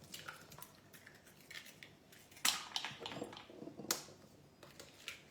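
Four eggs cracked one after another for apple savarins, giving sharp, close crunching snaps of shell against a hard edge over a faint kitchen background.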